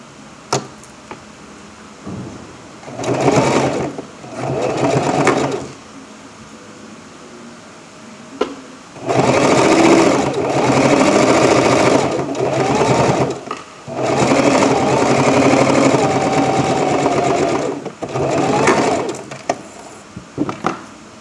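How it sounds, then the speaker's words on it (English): A sewing machine stitches a seam directly over an existing seam, running in several loud, steady bursts of whirring motor and needle clatter separated by short pauses, with no talking. "we're gonna seam right on top of that seam that we have"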